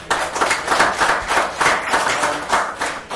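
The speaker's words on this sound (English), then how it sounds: "round of applause for Rob" A small crowd gives a round of applause at a hurling round-table event in a pub or club, steady close clapping with rhythmic swells throughout.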